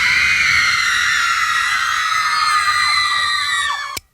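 A screaming machine imitates a teenage rock 'n' roll audience with a loud, continuous wall of high-pitched crowd shrieks that cuts off abruptly at the end.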